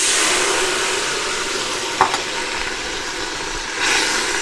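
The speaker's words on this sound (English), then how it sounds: "I'll let that bubble up and boil off for a minute." Sweet sherry bubbles and boils in a hot pan with chicken and fennel, a steady loud sizzle with a couple of brief clinks or stirs partway through.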